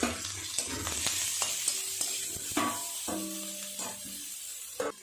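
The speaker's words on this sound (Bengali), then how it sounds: "অল্প একটু নুন আর অল্প একটু হলুদ দিয়ে উচ্ছেগুলো ঢাকা দিয়ে ভাজা করে নেব।" Bitter gourd fries in oil with salt and turmeric, a soft steady sizzle broken by scattered pops and scraping stirs, quiet and close, with no talking.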